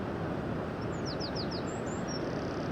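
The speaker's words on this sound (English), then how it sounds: "I hear a birdies chirping away" Several small birds chirp and whistle in short, rising notes at a distance, over steady wind and surf noise on an exposed Aberdeenshire shoreline during cold, windy weather.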